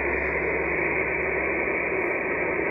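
Band-limited hiss of radio static on the 10 meter amateur band, heard through a receiver: dense, continuous and fairly loud, with a faint low hum underneath and no voices, for nearly three seconds.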